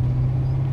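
A Corvette Z06 engine running steadily during a test drive after repairs, a continuous low drone from inside the car with no talk.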